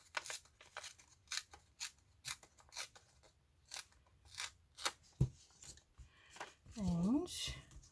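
Paper being torn by hand to make a journal cover, a run of short crisp rips and crinkles close by, coming in quick irregular bursts, with a voice speaking now and then.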